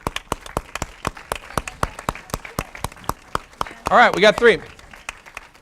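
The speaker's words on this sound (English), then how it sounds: "We ask for 3 people to join us here, and we clap until they show up." Hands clapping in a regular, evenly spaced beat at a talk while audience volunteers come forward, crisp separate claps throughout, with someone speaking briefly over them near the end.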